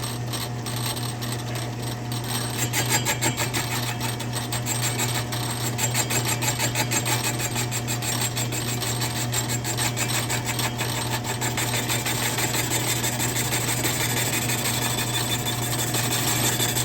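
A machine takes a light, shaving cutting pass on a part for a racing 50cc-class chainsaw, giving a steady, continuous raspy grinding with a constant motor hum, close and even throughout with no talking.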